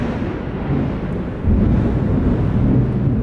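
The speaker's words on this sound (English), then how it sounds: "That's thunder. That's storming out, so I can't take it outside." Storm thunder rolls as a heavy, continuous low rumble, swelling louder about halfway through and holding steady to the end.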